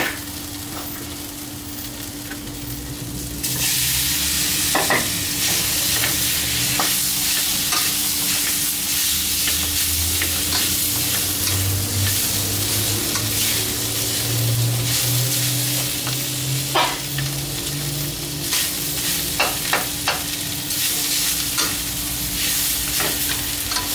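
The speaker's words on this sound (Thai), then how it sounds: "นำลงมาผัดกับเครื่องแกงเลยนะครับ" Pork rib bones, simmered beforehand, stir-fried with curry paste for a Thai kua-style curry, sizzling steadily and loudly close up with scraping stirs and a few clinks throughout, after a quieter start.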